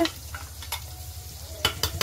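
Dal tempering sizzles in a pan under a low crackle, broken by a few sharp stirring scrapes and clatters of a utensil against the metal.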